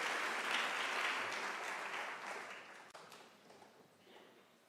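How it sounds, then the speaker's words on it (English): Audience at a University of South Africa autumn graduation ceremony applauds in a dense, full roar of clapping that starts loud and slowly fades toward the end. "can we all give a round of applause to all of us that are in this ceremony?"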